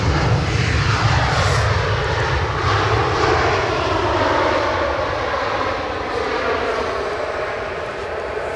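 An Emirates Airbus A350-900 passes at Edinburgh airport, its engines producing a strong roar with a sweeping, shifting whine as it goes by, loud at first and gradually fading.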